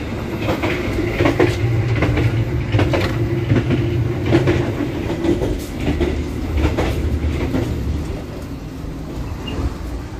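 An express passenger train races nonstop through Larangan station on a Semarang–Jakarta run at up to 120 km/h, a loud continuous rumble with rapid clickety-clack of wheels over rail joints heard from inside the carriage.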